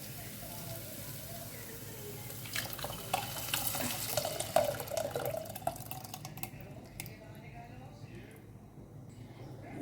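Water is poured into a curry gravy for kingfish curry, a steady running and splashing wash with a few drips that fades out, with low talk underneath.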